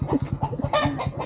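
A chicken belonging to a neighbor clucks in rapid repeated pulses, close and clear, with a brief louder squawk partway through.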